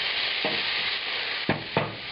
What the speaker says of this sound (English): We're going to cook these onions in that fat at the super high temperature